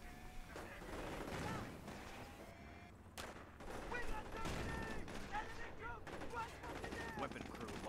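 A Panzer Grenadier squad fires MP-44 assault rifles in a World War II video game battle, producing dense, continuous rattling gunfire and overlapping bursts throughout.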